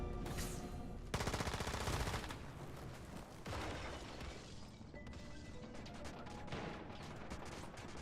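Gunfire in the survival shooter Once Human, dense overlapping automatic fire with crashing impacts, a continuous loud barrage from start to finish.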